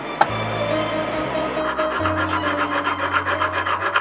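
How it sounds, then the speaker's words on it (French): Hand file rasping excess gold solder from a jewel at a jeweller's bench, a steady rhythmic series of back-and-forth scraping strokes, close and moderately loud, with a low hum beneath and no voices. "L'excédent de soudure est ensuite limé puis émeurisé, afin d'obtenir une surface parfaitement plane."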